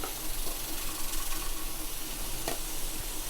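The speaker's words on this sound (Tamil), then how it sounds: "பாருங்க, இப்படி கிளறிக்கோங்க." Mappillai Samba rice puttu is stirred in a pan, a continuous scraping, hissing churn with a sharper scrape near the end, heard up close with no voices.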